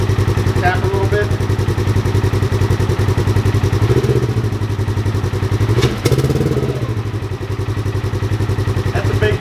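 A 2018 Polaris Ranger XP 1000 fitted with an HMF performance exhaust idles close by with a steady, loud, deep throb, dipping briefly as the throttle is touched around six seconds.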